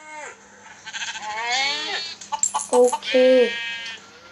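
Sheep in the Minecraft survival game bleat in a few short, wavering cries, close and clear, with someone talking over them.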